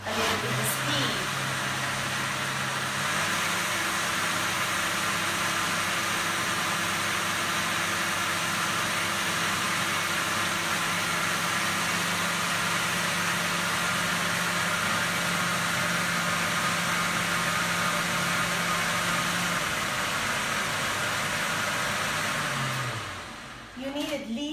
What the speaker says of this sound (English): You need at least 1 minute to get the perfect texture and to blend everything perfectly.